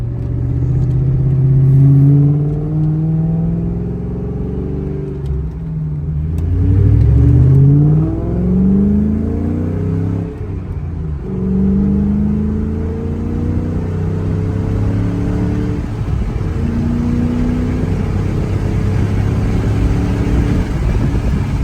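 Ford Mustang Mach 1 V8 engine rumbling and revving during a ride along in Pennsylvania, loud and close from inside the car, with rising and falling pitch as it accelerates and shifts through gears, steady throughout with no talk.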